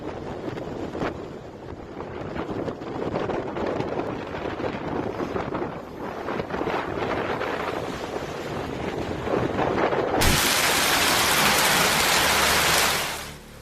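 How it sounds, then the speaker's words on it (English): Fierce hurricane winds from Florence batter a pier as ocean waves strike it, giving a loud, constant roar of wind buffeting and rushing water that ends in a sudden harsh blast of noise. "it was really the ocean striking back with Florence's fierce winds."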